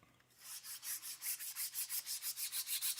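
Metal file rasping back and forth through a tight-fitting front clip part of a model kit, a quick, steady run of close, hissy scraping strokes in even rhythm.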